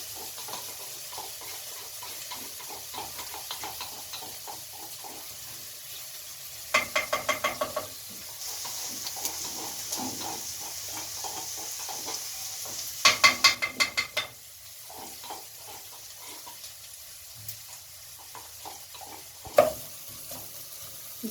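Garlic and onions fry in a pan with a steady, soft sizzle, broken by a few bursts of rattling clatter from stirring.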